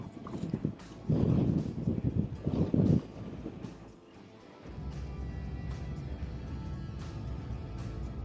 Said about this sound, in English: Oh my gosh, the wind is blowing me down.